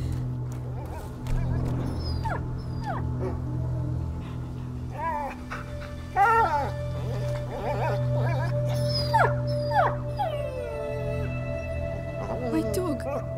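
A dog in the video game A Plague Tale: Innocence whimpers and lets out wavering howls and yips in bursts over a steady low drone, with other in-game sounds around it.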